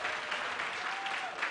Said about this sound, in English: Can we give Cummings K-8 a big round of applause?